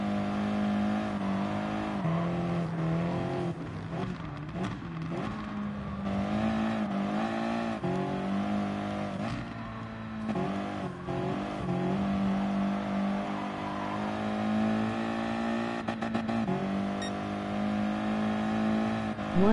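Race cars in the Gran Turismo Sport video game drone with steady, loud engine tones that rise and fall through gear changes and revving, continuous throughout with no talking.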